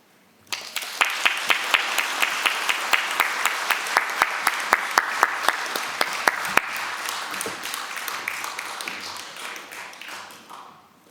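A church congregation in a Sunday worship hall claps to bless two retiring elders, a dense round of applause with a few distinct sharp claps that starts abruptly, holds steady for about ten seconds, then fades out.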